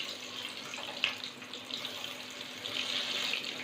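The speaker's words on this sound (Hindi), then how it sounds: "दरमियानी आंच पर हम इनको फ्राई करेंगे।" Aloo pakora chips fry in oil over medium heat, giving a steady, soft hissing sizzle with a few brief crackles and no voices.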